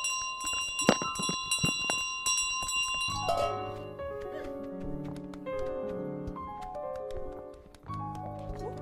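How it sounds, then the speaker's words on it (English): A bell rings repeatedly in Untitled Goose Game, bright chiming strikes over a busy layer of game music and melodic tones, loud and close throughout. "typically when you grab the bell from them, they stop"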